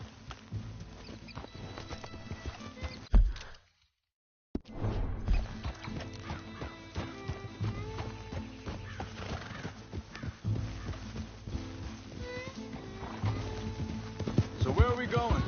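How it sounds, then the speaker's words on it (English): Horse hooves clip-clopping in Red Dead Redemption 2, a steady patter of steps running under the whole scene with a brief silent gap, while people talk. "That's a healthy-looking horse."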